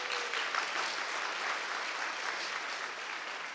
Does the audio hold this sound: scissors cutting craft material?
no